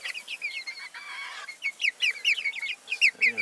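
Chickens in a cage cluck and chirp up close in quick bursts, a busy run of short, bright calls with no pause longer than a moment.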